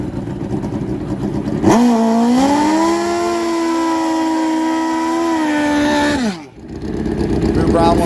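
A 500+ HP nitrous drag racing motorcycle launches down the track with a loud, sustained high-pitched engine wail that holds steady for several seconds before cutting off abruptly, amid crowd and track noise.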